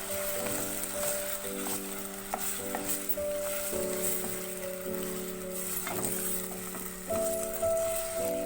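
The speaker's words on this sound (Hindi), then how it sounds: "लहसुन अदरक के साथ इसको अच्छी तरह से भूनेंगे" Garlic ginger paste frying and being stirred in a pan for aloo gosht produces a steady crackling sizzle over a low sustained hum, with occasional scraping stir strokes and no talking.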